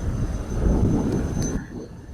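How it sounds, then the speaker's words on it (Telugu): A helicopter flies overhead outdoors, heard as a loud, low, rumbling drone that holds steady and then cuts off abruptly near the end. "ఇక్కడ చూడండి హెలికాప్టర్ కూడా వెళ్తుంది"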